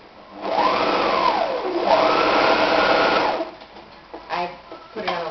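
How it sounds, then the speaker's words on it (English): A sewing machine runs in two quick stitching bursts through fabric for a scrunchy ponytail holder, a close whirring hum, followed by a few short clicks and handling sounds. "Go to your sewing machine and sew that one side, like this."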